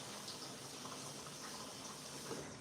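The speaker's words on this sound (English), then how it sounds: "giving these a good rinse through" Leeks being rinsed under running water in a kitchen sink, a steady soft splashing rush of tap water continuing without pause, fairly quiet and close.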